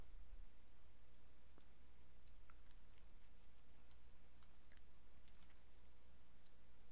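A computer mouse clicks in the FrontPage 2000 software, with a few faint, sparse ticks scattered over quiet background hiss.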